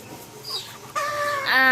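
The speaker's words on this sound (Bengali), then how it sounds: "এটা আর কি দেশি মুরগির স্বভাব" Desi local-breed chickens cluck on a small farm, a few close, loud clucks rising toward a sharper squawk at the end, with faint talking beneath.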